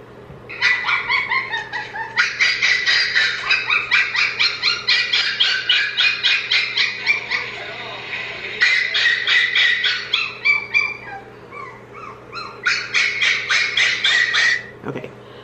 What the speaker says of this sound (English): One of them would yell and yip and like cry almost all night